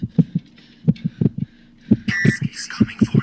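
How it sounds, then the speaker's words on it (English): A thumping heartbeat sound effect in a schizophrenia simulation, its low pulses repeating steadily and sometimes doubled, rising louder with a burst of other noise partway through. "Increased heartbeat."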